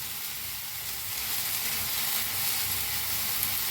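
Coriander with its stems dry-roasting alongside tomatoes in a hot pan for an egg masala curry gives a steady, even sizzle and hiss that carries on without a break and grows slightly louder partway through.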